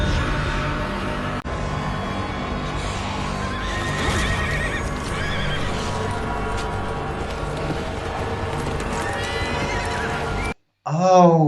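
Several horses whinny and neigh loudly over the clip-clop of hooves in a tense outdoor scene from a zombie drama, with a voice briefly heard and a sudden cut near the end.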